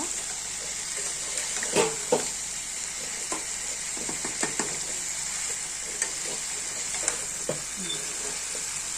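Cauliflower, potato and pea curry fries in a pan with a steady bright sizzle as broth is poured in, with scattered clanks and scrapes of stirring; no voices.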